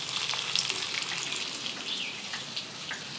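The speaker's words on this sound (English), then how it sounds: "It's bacon and eggs." Bacon strips and eggs frying together in a pan for breakfast: a bright, continuous spitting sizzle, close and steady, with no one speaking.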